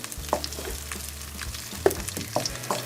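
Egg bhurji with masala frying in a pan and gently mixed, a soft steady sizzle punctuated by several sharp spatula clicks and scrapes against the pan, heard up close with no talking.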